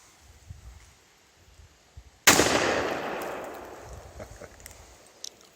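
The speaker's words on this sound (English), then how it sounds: "Now let's try a shotgun." A single loud shotgun blast fired at a termite mound backstop in open bush, a sharp crack followed by a long decaying boom and echo, with quiet outdoor ambience before and a faint click near the end.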